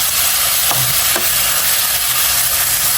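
Tomatoes sautéing in a hot pan for pompano sarciado produce a continuous loud sizzle, with a couple of brief scraping stirs near the start and no voices.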